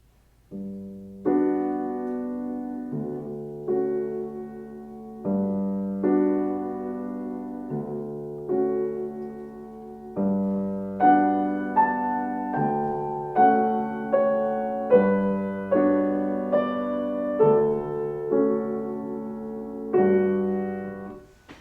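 Satie's Gymnopedie No.1 on slow, gentle solo piano, a steady lilting pattern of low bass notes and soft chords, a calm melody floating above, played alone without any voices.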